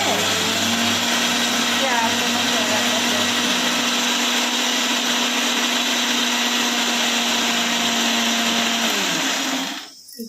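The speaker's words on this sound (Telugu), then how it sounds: "కొంచెం వాటర్ వేసాము, మిక్సీ పెడుతున్నాం చూడండి" Mixer grinder blending ingredients with a little water in a home kitchen, a loud steady motor whir running continuously close by, then cutting off abruptly at the end.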